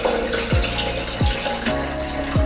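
Coconut water poured into a measuring cup while making a smoothie, a steady close liquid stream with gurgling pulses recurring every second or so.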